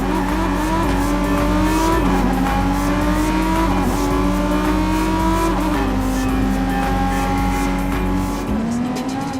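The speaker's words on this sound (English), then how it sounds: "We can get there by driving across the Bay Bridge together." A car in the video game Watch Dogs 2 drives across the Bay Bridge, its engine droning loudly and rising and falling in pitch through gear shifts. Tires squeal now and then under the continuous engine roar.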